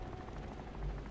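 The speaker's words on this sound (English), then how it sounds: "Military choppers." Military helicopters approach in a video game, heard as a steady, dense, low rotor rumble with rhythmic thumping, fairly faint and continuous throughout.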